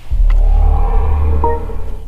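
A BMW XM super SUV's start-up tone, composed by Hans Zimmer, plays as a deep, sustained low rumble that swells quickly and holds steady for about two seconds, with a faint higher tonal layer on top.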